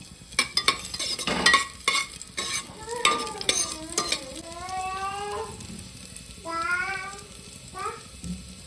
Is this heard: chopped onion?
yes